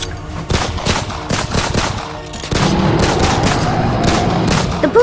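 Gunshots are fired at a crocodile in a rapid, sustained barrage of sharp cracks over rumbling action noise, loud and close, thickening into a dense fusillade in the second half.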